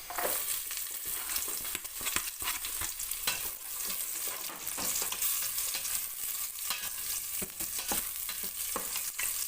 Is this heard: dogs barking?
no